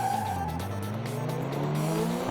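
A Hog's Breath Ute drifts at Queensland Raceway during a drift competition, its engine droning steadily and its tires squealing continuously, close and loud.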